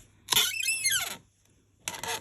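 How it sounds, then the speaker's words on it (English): Sharp, high-pitched squeals from a stamp press as it is pressed down on a tulip stamp stencil, one long sweeping squeak followed by a shorter one after a brief pause, close and clear. "the last time you'll hear the squeak,"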